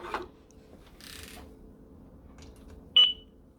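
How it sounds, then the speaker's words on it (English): A single short electronic beep from a solar-powered driveway alarm base station being plugged into an outlet sounds near the end after a few faint clicks and rustles in a quiet room. "it beeps once it is plugged in."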